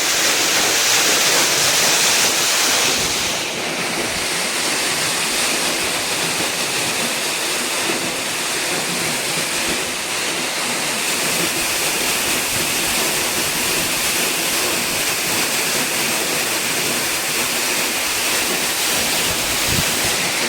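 Steady, loud rushing of water pumped by a solar-powered pump into a summer millet field, a continuous broadband flow with no pauses and no voices.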